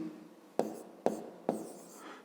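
Pen writing on paper while working a fifth-grade maths problem, three distinct close scratchy strokes spaced about half a second apart over a faint quiet background.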